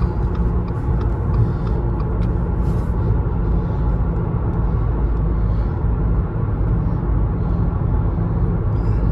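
A 2020 Subaru Impreza Sport cruising on the road at 60 mph, heard from inside as a steady, loud, unbroken rumble of road and engine noise with no talking.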